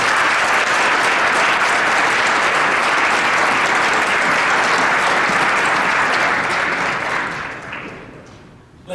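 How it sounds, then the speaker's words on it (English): A large audience at a PACTA 2019 student leadership event applauding advisors: loud, dense, sustained clapping that holds steady for several seconds, then fades away near the end. "How about a round of applause for these"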